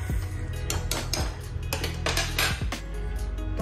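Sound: pot of kadhi pakora being covered with a lid

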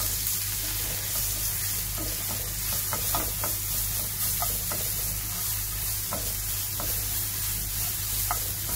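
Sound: grated garlic frying and being stirred in a pan

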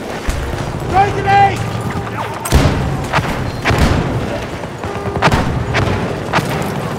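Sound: grenade explosion and gunfire in Battlefield 2042 video game

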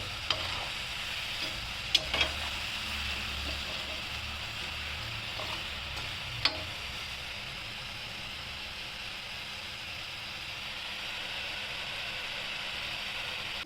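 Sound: kodubale snacks deep-frying in oil

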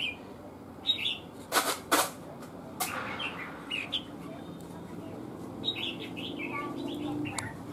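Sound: caged red-whiskered bulbul chirping

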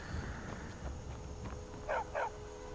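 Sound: dog barking in video game Skyrim

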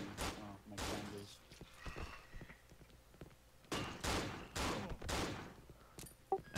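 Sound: gunshots in a video game

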